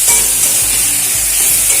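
Leafy greens sauté in a pan with a loud, dense, close sizzle, steady throughout with a few faint stirring knocks underneath and no speech.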